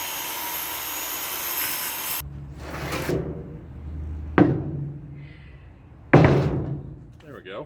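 A board cut to size for a Dodge Dakota cab shelf, with a loud powered cut at the start followed by bursts of rubbing and sawing strokes and sharp knocks on wood.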